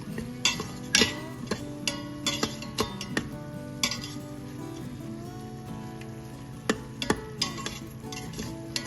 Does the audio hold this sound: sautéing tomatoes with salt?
yes